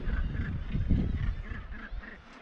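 Dense seabird colony calling at Bempton Cliffs, with many gannets giving harsh, overlapping honking and croaking calls. The sound is a loud, continuous din without pause, and no one speaks over it.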